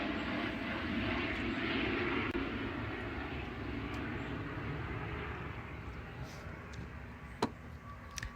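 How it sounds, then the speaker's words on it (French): An airplane passes overhead, its engine a steady, fairly faint broadband rumble that swells slightly and then eases, with a few small clicks and taps nearby toward the end. "il y a l'avion qui passe"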